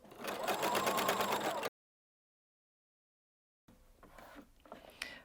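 Sewing machine stitching rows of shirring on gathered fabric, a steady fast whir close by for under two seconds, then a stretch of silence, then softer handling noises.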